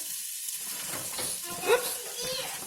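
Potatoes hit a frying pan and sizzle with a soft, steady hiss, close by, a short clatter rising near the end, with faint talk in the background.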